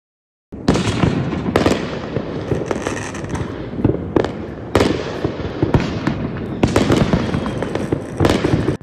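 Small, cheap Penny Dreadful fireworks crackle and pop in rapid, irregular bursts, with several sharper bangs standing out over a dense, continuous crackling.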